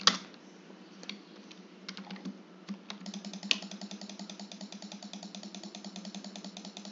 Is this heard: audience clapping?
no